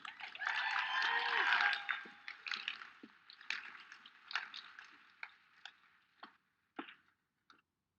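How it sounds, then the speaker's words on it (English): Audience applause greets Annie Hauser as she comes on, a short burst that quickly thins into scattered claps and dies away, with a brief voice murmuring near the start. "let's give a good round of applause for Annie Hauser"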